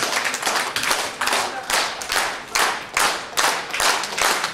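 An audience applauds to welcome a female presenter, a legendary announcer, at the opening event of the El-Aiym public association and its El-Aiym and Amanat journals: steady, rhythmic clapping in repeated waves, close and fairly loud.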